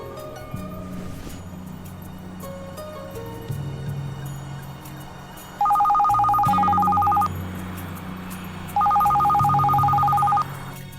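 A telephone rings in two long electronic bursts, a few seconds apart, loud over steady background music.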